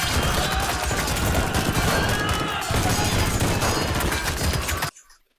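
Dense automatic rifle fire from a film scene pours out in a loud, continuous fusillade of overlapping bursts for several seconds, then cuts off abruptly into near silence.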